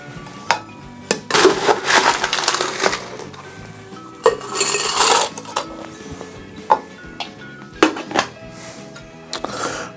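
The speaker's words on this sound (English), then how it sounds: "So we're gonna add some ice to our shaker now." Ice cubes tumbling into a cocktail shaker while a keto Yule Mule with diet cranberry juice is mixed, giving several loud clattering bursts of clinking against metal, separated by short pauses.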